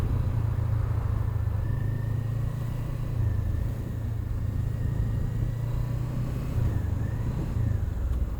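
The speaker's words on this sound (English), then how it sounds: "It's just a load of traffic for traffic's sake." Road traffic of cars and motorcycles goes by in a steady low rumble, with engines droning continuously nearby and no clear gaps between vehicles.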